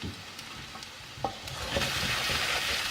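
Fried rice for nasi goreng sizzling steadily in a pan while being stirred, with a few clicks of the utensil against the pan and the frying growing louder toward the end.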